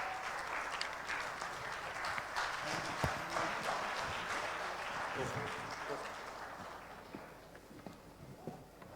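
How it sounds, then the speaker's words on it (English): A crowd at an annual general meeting applauds a speaker being brought on stage, a continuous wash of clapping heard fairly faint and distant, slowly tapering off toward the end. "Can we have a round of applause for him?"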